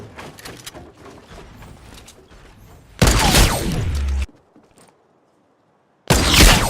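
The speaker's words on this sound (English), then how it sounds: "In just a few seconds you'll see I get an easy snipe on my target" Sharp, loud gunfire bursts in a Fortnite match, a sniper rifle shot among them, with two heavy blasts around three and six seconds apart standing out over quieter game noise.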